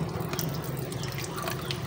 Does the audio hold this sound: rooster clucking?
no